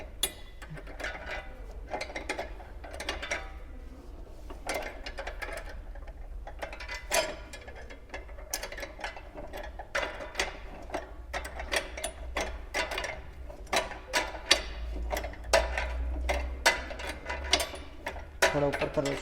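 Wrench tightening bolts during assembly of a mini power weeder, giving a steady run of quick ratcheting clicks and metallic ticks, close and moderately loud, with occasional talk nearby.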